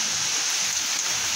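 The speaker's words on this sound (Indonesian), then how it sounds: "Hujannya nggak berhenti-berhenti." Heavy rain pours steadily in a dense, even hiss that stays loud and unbroken throughout, with no voices.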